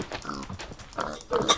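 A pig in Minecraft is hit and lets out a few short grunting oinks in quick succession, close and fairly loud, with no voice over them.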